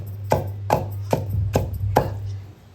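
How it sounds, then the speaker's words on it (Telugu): Five evenly spaced thuds of two small onions being pounded in a stone mortar, each strike sharp and close with a low hum underneath. "2 ఉల్లిగడ్డలు దంచుతున్నా, చిన్నవి 2 ఉల్లిగడ్డలు అనమాట ఇవి."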